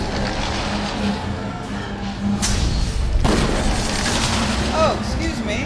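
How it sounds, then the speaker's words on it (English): Barrels explode when shot in Dungeon Siege 3, a few separate booms and thuds over a busy game soundscape, with someone talking in between. "Now I'm just running around shooting barrels."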